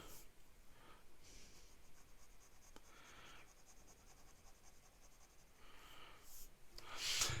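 Faint, scratchy strokes come from a wet, well-tuned Twiss fountain pen nib in a Lizard Blue cellulose acetate body writing on paper. Short bursts of scratching are separated by pauses in a quiet room.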